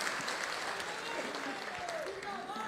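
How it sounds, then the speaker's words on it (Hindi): Audience applause at a Samajwadi Party North Indian conference in Mumbai, a steady wash of many hands clapping through the whole stretch with crowd voices mixed in. "शिवपाल भाई आए, मैं तालियां बजाकर इनका बहुत बहुत अभिनंदन करता हूँ।"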